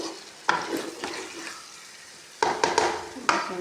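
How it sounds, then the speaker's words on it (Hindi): Aloo baingan, a potato and eggplant curry, frying in ghee in a pan: a soft continuous sizzle with a few sharp scrapes and knocks of a spoon stirring against the metal, close and without speech. "हम थोड़ी देर भूनेंगे।"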